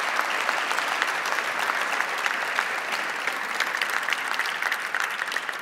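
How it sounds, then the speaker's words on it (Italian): Sustained applause from a large crowd at a political party congress, steady dense clapping throughout with a faint murmur of voices. "vi chiedo un applauso al presidente del partito Paolo Alli"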